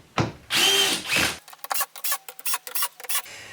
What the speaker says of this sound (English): If you're using a drill, ensure not to over tighten.